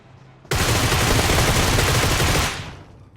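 A sudden, loud burst of PUBG Mobile gunfire breaks out of near-silence and holds as a dense, continuous volley for about two seconds, then fades away.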